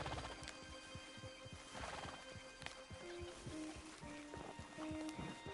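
Horses in Red Dead walk with steady, close clip-clopping hooves and let out a clear whinny near the start, while the hoofbeats continue at a relaxed pace throughout.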